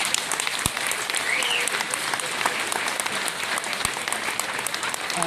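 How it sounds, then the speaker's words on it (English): A crowd at a boxing honors ceremony gives steady, dense applause, sustained and fairly even for the whole stretch, with a couple of sharp knocks cutting through. "Please give another round of applause"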